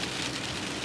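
Rain falls steadily on a car during a drive, a dense even hiss of drops on the body and glass, brief and fairly loud.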